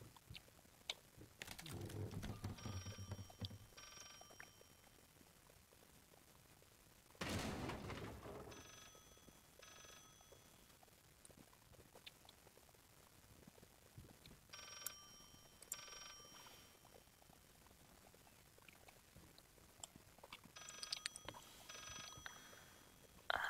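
Telephone ringing in the horror video game Layers of Fear, faint repeated bell-like rings in short bursts amid quiet ambient rumble and occasional louder swells.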